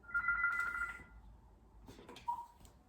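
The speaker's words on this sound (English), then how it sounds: "Ooh, a phone call." A phone rings with an incoming call in a small quarantine room in Korea, giving a short electronic ringtone burst near the start, then a fainter chirp later amid room noise.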